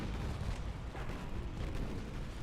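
Warship secondary guns fire in the naval battle game Ultimate Admiral Dreadnoughts, producing a dense, continuous rumbling barrage of overlapping booms with no pauses or talking.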